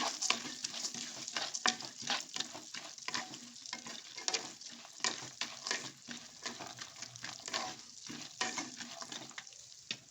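Almonds, pumpkin seeds and sunflower seeds dry-frying in a pan for sugar-free laddus, heard as soft, rhythmic scraping and rattling as the seeds are stirred, with a faint sizzle underneath.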